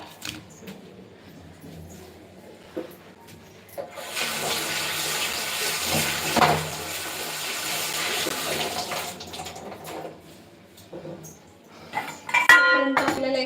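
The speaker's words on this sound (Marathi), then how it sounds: "आता मी हात धुवून घेते" Water runs steadily from a kitchen tap for several seconds as hands are washed under it, with faint clinks of dishes and utensils before and after in a home kitchen.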